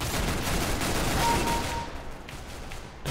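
Rapid gunfire in Counter-Strike: Global Offensive, a dense run of loud shots crackling continuously for about two seconds before dropping back to quieter game noise.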